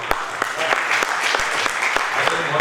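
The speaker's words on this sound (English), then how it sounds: "we all stand up for a huge round of applause for Commodore Bhada and the entire team" A large audience at a commemorative event honouring war heroes in Belgaum gives a sustained round of applause. Dense, steady clapping fills the hall, with sharper individual claps standing out and a voice faintly underneath.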